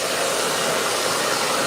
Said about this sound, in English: I'm just going to bring the hair dryer back out again.